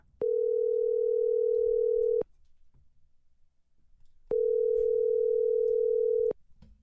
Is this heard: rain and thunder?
no